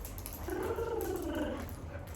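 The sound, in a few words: dog growling during play with a rose toy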